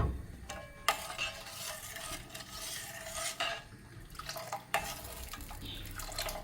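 Custard mixture poured into a pan for a mango dessert, with a soft broadband wash of liquid and sizzle, a few sharp utensil clinks and stirring scrapes, fairly close and steady, no talk.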